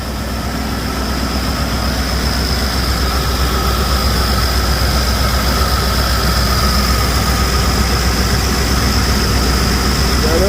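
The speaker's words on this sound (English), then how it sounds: "like that, we got us a running motor." A swapped LS V8 engine runs in a 1999 OBS pickup truck, making a loud, steady idle with an even low rumble and a faint whine that holds for the whole stretch, close by and with no talk.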